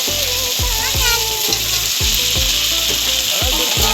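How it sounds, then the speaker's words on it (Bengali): Potatoes frying in hot oil for a katla fish curry, a loud close sizzle broken by rhythmic stirring strokes about every half second, with music playing underneath. "আলু ভাজতে হবে।"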